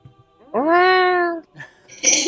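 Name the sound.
player imitating a cat's meow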